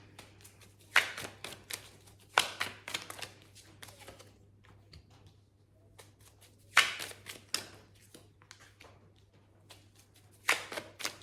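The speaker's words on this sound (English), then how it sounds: "Let me put all your cards out before we start." Tarot cards laid out one by one on a table during a Cancer reading, with soft slaps and shuffling taps recurring every second or two against a steady low hum, fairly close and alone.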